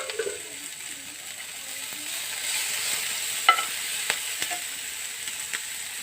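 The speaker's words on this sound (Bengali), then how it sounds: "এর মধ্যে দিয়ে দিচ্ছি একটি টমেটো, যেটি আমি কুচিয়ে রেখেছি।" Chopped tomato fries over a low flame for rajma curry, a soft sizzle with occasional scraping stirs and small clicks of a utensil against the pan, fairly quiet and close, no voices.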